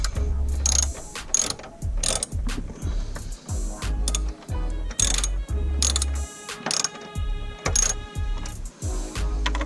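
A hand ratchet clicks in rapid bursts while screws are snugged into a Rockford Fosgate P3 subwoofer box in a Chevy Camaro RS, with repeated short rounds of sharp close ratcheting separated by brief pauses.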